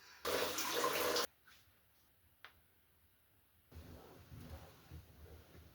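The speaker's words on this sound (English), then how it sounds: "Let's go take a shower." A shower runs in a home bathroom: a loud, close burst of spraying water for about a second cuts off abruptly, followed by a few faint drips and then a softer, steadier stream of running water.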